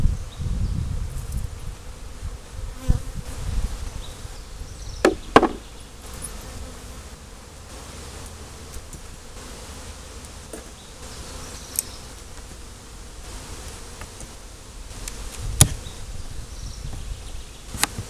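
A colony of honey bees hums steadily around an opened 18-frame long hive during a June inspection, a continuous close buzz with a few louder passes from individual bees and occasional light knocks of frames.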